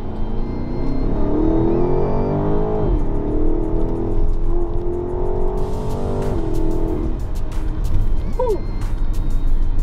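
BMW X7 M50i SUV under hard acceleration in sport mode, its engine droning loudly and continuously with rising and falling pitch through gear changes, heard from inside the cabin with someone talking over it.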